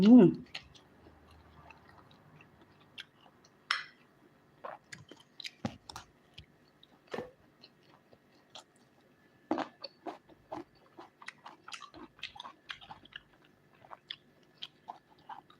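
Close, quiet crunching bites and chewing of a spicy dry-fried pork dish with stink beans and crisp fresh eggplants, coming in irregular bursts with short pauses and a brief voice at the very start.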